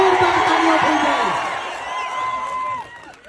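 Crowd cheering, whoops and shouts at a tribal community political rally in Dahod, a dense burst of voices that swells, then thins and fades over a few seconds.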